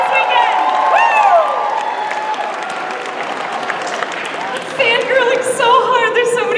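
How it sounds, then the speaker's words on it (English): Audience at an anime convention opening ceremony, Kawaii Kon 2016, clapping and cheering loudly throughout, with whoops and a voice rising over the crowd toward the end. "Let's give them another round of applause, guys."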